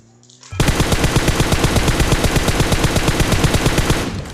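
Automatic gunfire in a shooter video game: after a brief quiet start, a long, loud, rapid burst of evenly spaced shots runs for about three and a half seconds, then cuts off, with no voices.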